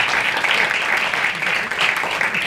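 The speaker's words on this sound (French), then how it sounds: "On peut applaudir aussi Kevin en régie qui nous a permis de nous entendre" Audience applause at an evening event on artistic practice and disability, a steady dense wash of clapping filling the short stretch, fairly loud and close with no clear voices over it.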